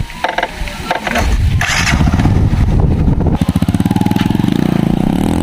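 A motorcycle engine sputters, catches and then revs into a loud, close, rapidly pulsing idle that grows steadier toward the end.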